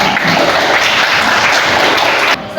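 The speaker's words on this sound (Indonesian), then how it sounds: "Berikan tepuk tangan dulu." Classroom of students clapping together, a loud, dense burst of applause close by that holds steady for a couple of seconds before cutting off abruptly.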